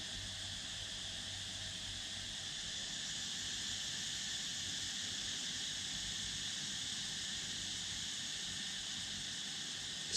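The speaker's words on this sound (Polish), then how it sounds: "Same cykady, nie?" Cicadas drone steadily through the night on Koh Phangan, Thailand, a dense continuous high-pitched hiss that holds level and unbroken from start to finish, with no voices over it.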